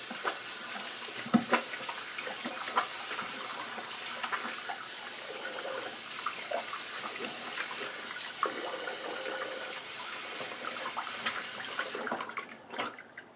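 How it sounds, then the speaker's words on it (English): Water from a bathroom tap runs steadily as hands are rinsed beneath it, a continuous close splashing rush with small irregular splatters, cutting off abruptly near the end. "let me rinse my hands here."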